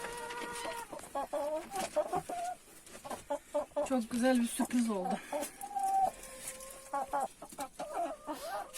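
Newly hatched chicks cluck and chirp close by in short repeated bursts while eating their eggshells, with a person speaking briefly over them.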